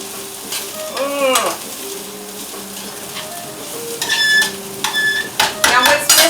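Spanish rice caramelizing in a hot pan gives a steady close sizzle, broken by scraping stirs and a few utensil clinks against the pan, with a brief voice in the background.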